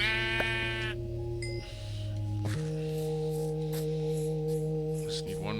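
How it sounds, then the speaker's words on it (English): Sheep in a Minecraft-style survival game let out several long, wavering bleats, loud and close, one after another with short gaps between them. "All I need to do is find 2 more rogue sheep, or 1 or 2 more rogue sheep."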